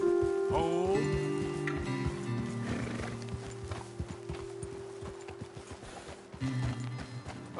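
Horses in the video game Red Dead Redemption 2 whinny and clip-clop, starting with a loud neigh and then a scatter of hoof knocks over a rainy ambient bed, with a low music drone underneath.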